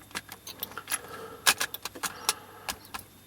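A cassette tape is pulled from a Philips N2510 tape deck with a quick series of close plastic clicks, clacks and rattles, irregular and fairly loud.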